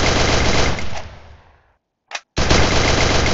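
MP40 submachine gun from Free Fire in loud, dense automatic bursts: a long rapid stream that trails off into silence, one short shot, then another sustained burst, with no talk.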